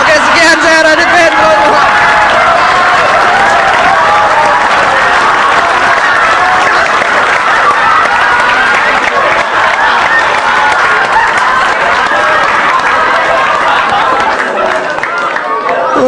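Loud, sustained applause and cheering from a stand-up comedy show audience, a continuous roar of many hands with crowd chatter mixed in, close and full throughout.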